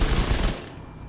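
Vector submachine gun in a video game firing one burst at its maximum rate, a loud, dense rattle that stops about halfway and leaves a fading tail.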